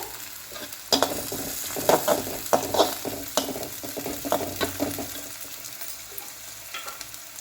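Curry leaves fry with onions in hot oil for potato sambar. A constant sizzle sits under repeated scraping stir strokes at an uneven, brisk pace, heard up close with no talking.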